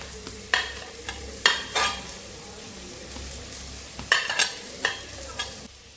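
Sliced onions and two green chillies frying in a pan, a soft sizzle under repeated scraping strokes of a spoon stirring, with sharp clinks and scuffs at irregular intervals.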